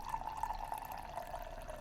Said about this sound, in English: So let's pour ourselves a little cup of Wandering Bear and see how it is.